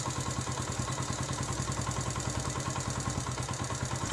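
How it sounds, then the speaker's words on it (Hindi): Motorbike engine idling steadily at close range, a continuous even chugging with a regular rhythm and no voices. "और यहाँ पर मैं मोटर बाइक को बंद करूँगा।"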